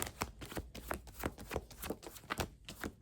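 Tarot advice cards being shuffled by hand, a steady run of close, crisp riffling flutters and soft card slaps with no talking.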